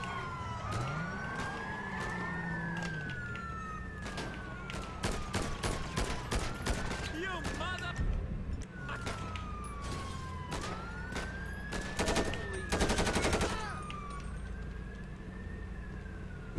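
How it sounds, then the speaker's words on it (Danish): Rapid bursts of gunfire ring out in GTA V on a military base, with sirens wailing and rising and falling throughout and repeated sharp volleys cutting through the whole scene. "Så skyder de løs, du."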